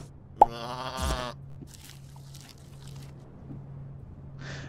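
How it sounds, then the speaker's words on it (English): A goat-like creature in the Starbound video game gives a clear synthetic bleat near the start, followed by soft squishy eating noises and faint scattered clicks over a low steady hum. "I don't like the fact of how your goat thing is eating the floor"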